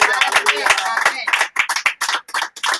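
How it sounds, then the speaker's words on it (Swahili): Church congregation clapping in praise during a child dedication service, sharp hand claps in quick uneven bursts mixed with loud voices and singing throughout, close and lively. "Pigia tu Bwana makofi."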